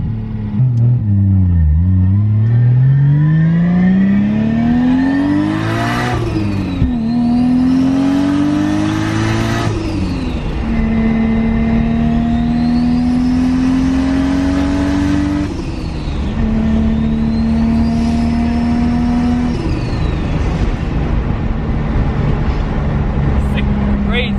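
A Nissan 300ZX with a 1JZ engine swap pulls hard through repeated gear changes, each rising engine whine dropping at the shift then climbing again, loud and close from inside the car with voices talking over it.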